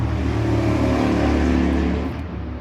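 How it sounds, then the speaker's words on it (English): A car engine roars loud and close, holding a steady rising drone for about two seconds before fading off, with no one talking over it. "Race car."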